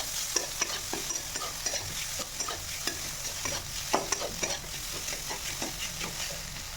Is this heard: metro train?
no